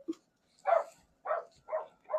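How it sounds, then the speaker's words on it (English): A dog barks nearby indoors. After a tiny yip come four loud, evenly spaced barks roughly half a second apart, with nobody talking. "The dog just started barking"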